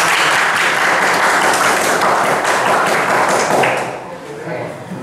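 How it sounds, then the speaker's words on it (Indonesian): Audience applause for a group's presentation in a vocational school class on firewall configuration, a loud, dense wash of clapping that runs steadily before tapering off abruptly near the end. "Beri tepuk tangan dulu buat"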